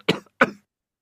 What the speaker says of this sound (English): I can't stop coughing and blowing my nose.